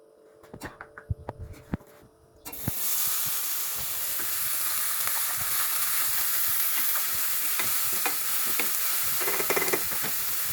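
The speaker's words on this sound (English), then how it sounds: "I'll be adding my mushrooms into the pan and let it cook for 3 minutes" Mushrooms drop into a hot frying pan with a few clatters and taps, then a loud, steady sizzle and hiss that carries on to the end with light stirring noises.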